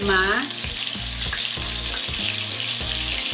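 Ox tongue sizzles loudly in a hot pan, a constant crackling hiss with a few soft knocks of stirring near the start.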